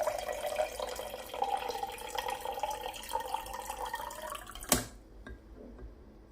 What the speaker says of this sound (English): I accidentally hit over the water in my plate and on the floor